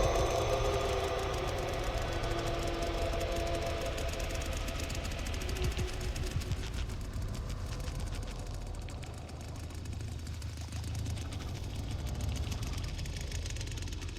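A chainsaw engine from the video game Texas Chain Saw Massacre chugs and knocks steadily at moderate volume, a rough continuous mechanical drone with no speech over it.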